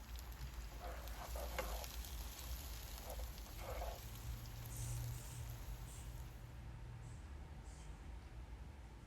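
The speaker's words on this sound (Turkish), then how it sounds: "altını kaplayacak kadar zeytinyağını veya ayçiçek yağını iyice ısıttıktan sonra doğramış olduğumuz kuru soğanları güzelce pembeleşinceye kadar kavuralım." Chopped dry onions fry in well-heated olive or sunflower oil, giving a steady, close hiss of sizzling that runs throughout with no talking.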